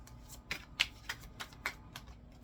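Soul Reflections Love Oracle cards being shuffled by hand, a run of crisp riffling flicks and soft slaps in an uneven rhythm, close and clear with no talking.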